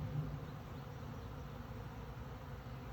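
Honey bees buzzing around a hive, a steady faint hum of many insects throughout, low and continuous with no voices.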